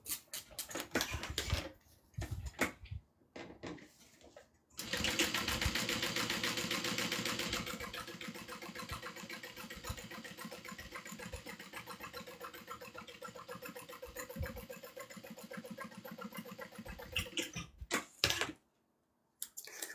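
A sewing machine stitches fabric down in a long, fast, even mechanical whir with rapid ticking, close and fairly loud, stopping briefly near the end after some scattered handling noises at the start.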